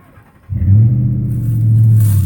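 A truck engine starts up after a quiet moment and settles into a loud, steady low rumble as it idles and backs up, close by and with no voices.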